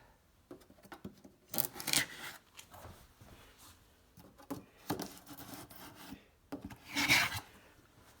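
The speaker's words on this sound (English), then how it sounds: "let me grab a tool here and slice open the tape" A tool slicing through packing tape on a Starlink box, heard as faint, close scraping and rasping strokes, with two louder tearing bursts separated by quieter rustling.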